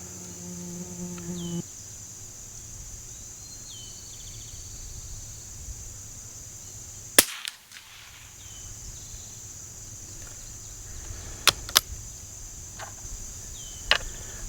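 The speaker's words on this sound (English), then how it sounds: "I'm just going to shoot a 3-shot group and then take a look at it." A rifle fitted with a Cvlife JackalHowl 3x9 scope fires at a 50-yard target during squirrel hunting. It gives one sharp crack, then three more spaced cracks later, each brief and moderately loud over a steady outdoor drone of insects.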